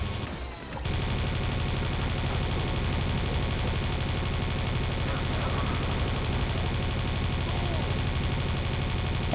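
Rapid, unbroken minigun fire from the Serious Sam 2 video game pours out as a dense, loud stream, kicking in after a brief pause less than a second in and running steadily to the end.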